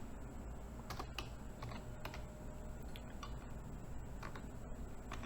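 Someone types a place name on a computer keyboard, producing a steady run of light, rapid key clicks at close range over a faint constant background hum, with no talking.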